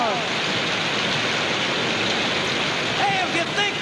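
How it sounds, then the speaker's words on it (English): Rain pouring down on a huge outdoor festival crowd at Woodstock in August 1969, heard as a dense, steady hiss that fills the whole stretch at an even, fairly loud level. "if you think really hard, maybe we can stop this rain"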